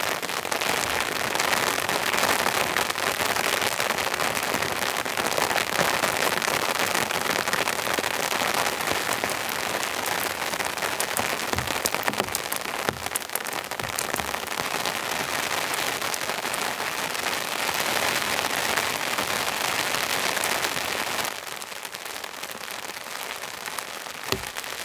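Steady heavy rain pours outside a 100-year-old rustic shelter at a remote camp, a dense even hiss of drops spattering on surfaces that eases slightly near the end.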